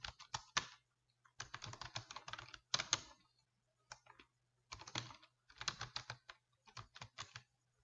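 Fingers type on a computer keyboard while entering text in a word-processing document, quick bursts of close, crisp key clicks separated by short pauses.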